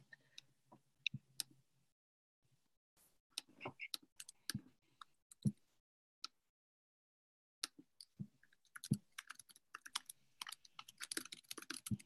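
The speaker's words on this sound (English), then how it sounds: "I'm just going to mute myself so everyone doesn't have to listen to me typing a 65 character password twice." A 65-character password being typed on a computer keyboard, heard as close, irregular bursts of crisp key clicks with short pauses and no talking.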